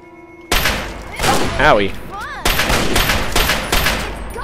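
Pistol shots ring out in a post-apocalyptic raider battle video game, a dense run of loud gunfire bursts with synthetic whooshing effects, while a man briefly mutters over the noise.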